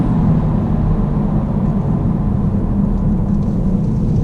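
A 2019 Genesis G70 3.3T twin-turbo engine accelerating hard under quick paddle shifts, a steady, loud low-pitched roar heard from inside the cabin with no break.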